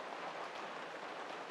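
Heavy rain pours down outside a home kitchen, a steady broadband hiss with no breaks, heard alone at moderate level.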